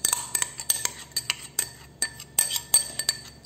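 A spoon stirs and knocks against a bowl of cornstarch batter with grated mozzarella, giving a run of sharp, clinking taps in an irregular rhythm, close and alone.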